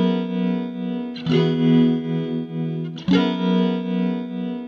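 Electric guitar loop with overdrive and fast tremolo, sustained lush chords that restrike twice, loud and alone with no talking.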